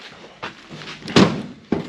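The door of a worn, rusty 1955 Chevy Nomad being latched shut in a garage: a sharp metallic clunk mid-clip, with softer knocks and rattles before it and another thud just after.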